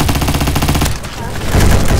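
The Vector gun in the Roblox shooter Bad Business fires in rapid, loud automatic bursts, with a brief pause and then more heavy fire.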